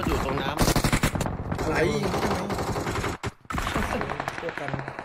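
Rapid automatic gunfire in PUBG Mobile, loud bursts of machine-gun fire and scattered shots near and far, with excited talk over the shooting and a brief gap before firing resumes.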